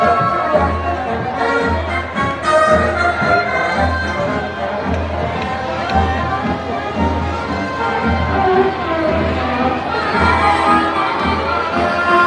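A parade crowd in Maringá, Paraná cheers and claps as the military police pass during the city's 75th anniversary march, a steady dense roar with music and shouting children mixed in throughout.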